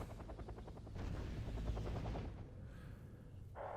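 Rapid automatic weapons fire in the Wargame strategy game, a rattling machine-gun burst with fast repeated shots over a steady battlefield rumble, followed by quieter background noise.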